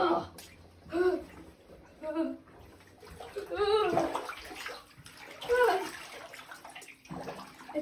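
Bathwater sloshes and splashes as someone climbs into a bath wearing a dress shirt, dress pants, socks and shoes, with bursts of movement between quieter stretches while a person talks over it.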